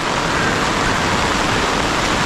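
A steady downpour drums in the mountains, a thick, constant hiss of heavy rain that stays loud and uniform for the whole stretch, with nothing else standing out.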